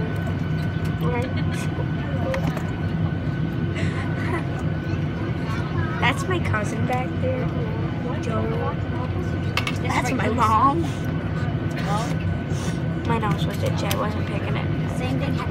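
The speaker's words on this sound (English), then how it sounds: "we're taking off slash taxiing." An airliner taxis before takeoff on a flight to Florida, a steady low engine hum and cabin drone heard from inside, with passengers talking over it and occasional clinks.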